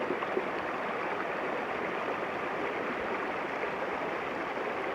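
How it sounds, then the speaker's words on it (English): A river rushes steadily past a small waterfall at a campsite in New Mexico, giving a dense, even roar of flowing water heard close and loud throughout, with no talk. "And just have that beautiful sound of the river. And a mini waterfall right here."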